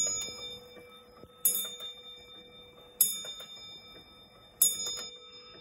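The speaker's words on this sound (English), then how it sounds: "This clock strikes the hour on the hour." An antique London table clock from around 1770 strikes the hour. Three clear, ringing bell blows come at steady intervals of about a second and a half, each fading slowly over soft ticking.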